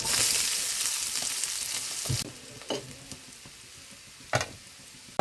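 Minced garlic and onion sizzle loudly in hot oil for a dal tempering, a bright frying hiss that cuts off sharply partway, followed by quieter stirring clinks and scrapes.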